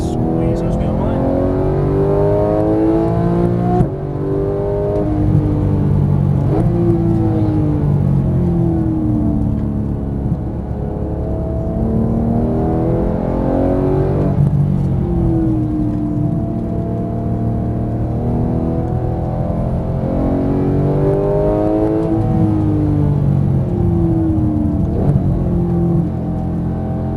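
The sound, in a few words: Porsche GT3 engine revving on race track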